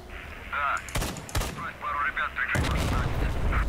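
Gunfire and blasts in the shooter game Radiophobia 3 during a fight with snipers: several sharp, loud bursts spaced a second or so apart, with a heavier booming blast near the end and game noise between them.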